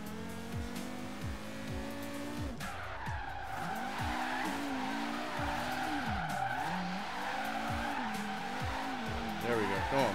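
An Audi RS2 Avant on street tires in Forza Horizon 3 skids with locked brakes, its tires squealing in a sustained, wavering screech over a droning engine, loud and close, with a voice talking faintly underneath.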